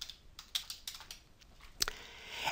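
A message is typed on a computer keyboard, giving a string of soft, uneven clicks close by in a quiet room, with a sharper tap near the end.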